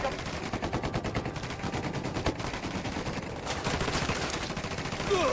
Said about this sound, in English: I'm opening fire on these shitheads.